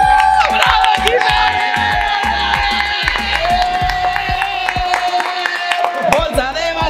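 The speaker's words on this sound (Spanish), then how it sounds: "Le damos un aplauso a Jime" A lively crowd cheers and shouts over loud music, with scattered claps and whoops throughout.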